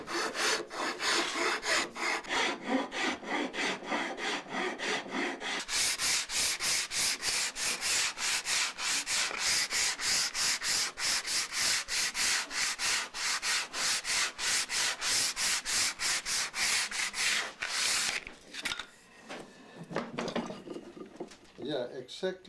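Rhythmic back-and-forth rasping of hand sanding on wood while building a cabinet, steady strokes for most of the clip, with some talking underneath.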